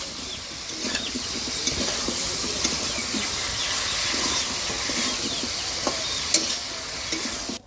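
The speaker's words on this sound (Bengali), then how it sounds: "এই শুটকির সাথে একসাথে ভালো করে মিক্স করে আমি কষায় নিই।" Dried rita fish stir-fried with potato and eggplant in a pan, giving a steady close sizzle with frequent stirring scrapes and clatters throughout, with no talk.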